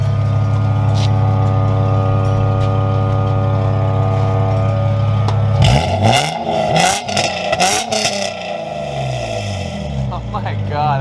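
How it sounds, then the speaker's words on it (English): Lexus IS300 engine with its silencer removed, a loud steady idle drone that breaks into several sharp, raspy revs and blips, with people talking over and between them. "Go ahead, rev it up again."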